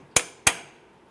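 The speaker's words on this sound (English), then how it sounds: "go ahead and peen it over so there's no way this nut can loosen up on you while you're driving down the road" Two sharp, close hammer blows peening a cotter pin over a tie rod nut on a 2002-2009 Chevrolet Trailblazer, evenly spaced with a short metallic ring after each strike.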